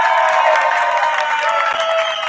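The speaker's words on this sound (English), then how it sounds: "Where's the clapping?" Clapping from a cocktail-awards audience, a dense steady patter that fills the whole stretch at close range with a faint murmur of crowd underneath.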